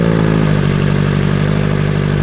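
A Kawasaki ZX-4RR motorcycle fitted with a Kaufman S-pipe exhaust runs loud and close, its engine note steady and raspy with dense harmonic buzz throughout, no voices over it.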